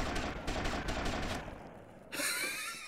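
Gunshots in Grand Theft Auto: Vice City Definitive Edition: a quick run of rapid automatic shots that fades out, then a short pause before a brighter, ringing burst of sound near the end.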